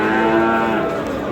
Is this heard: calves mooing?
yes